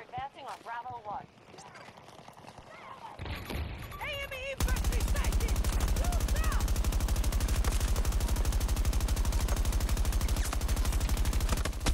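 Rapid automatic gunfire from a player's weapon in Battlefield 2042, first a few scattered bursts over ambient battle noise and voices, then a loud, continuous stream of shots hammering steadily for about eight seconds.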